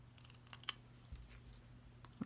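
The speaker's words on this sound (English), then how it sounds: "you can either just cut it straight off the end, like so, like this" Scissors snipping the end off a piece of work, a few faint, quick clicks in a quiet room with no talking.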